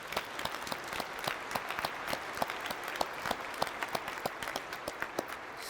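Commencement audience applauding at a law school graduation ceremony, a steady dense patter of many hands clapping at moderate volume, sustained throughout without voices.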